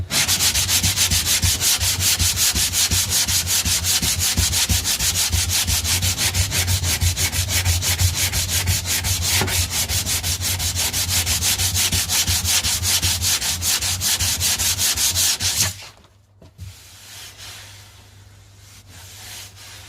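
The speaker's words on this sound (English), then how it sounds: "I've also got a sander, manual hand sander here as well" A manual hand sander rubs over primed surface in fast, continuous back-and-forth scraping strokes, loud and close for about fifteen seconds before stopping abruptly, leaving a quiet room hum.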